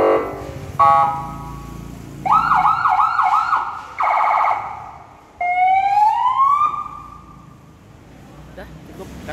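A police-style siren from a wireless TOA speaker on a Honda HR-V sounds loud and close in several rapid wailing and yelping bursts, with short pauses between patterns and no talk.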